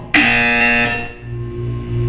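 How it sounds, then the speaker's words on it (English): A loud electronic buzzer from the Portal 2 wellness exercise, a single sustained harsh tone sounding for under a second before fading, then a low steady hum remains. "You will hear a buzzer. When you hear the buzzer, look down at the floor."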